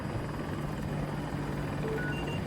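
An anti-aircraft helicopter in Battlefield 2042 gives a steady, low rotor drone that stays constant and moderately distant under the game's background noise, with no talk.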